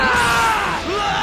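A character in the video game Dragon Ball Xenoverse 2 gives a loud, close scream during a super attack, a strained yell that wavers in pitch amid energy effects.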